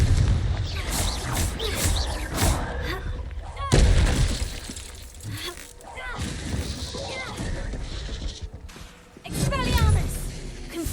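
Confringo explosive spells in Hogwarts Legacy blast and shatter repeatedly among crashing debris, while a voice keeps calling out spell names over the dense battle noise.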